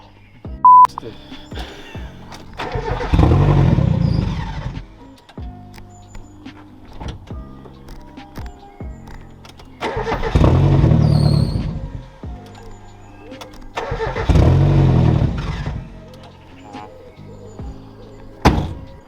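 Mazda MX-5 bought for £400 cranking without firing, the starter grinding in three separate bursts of several seconds each, with quieter clicks and thunks between attempts and voices talking nearby.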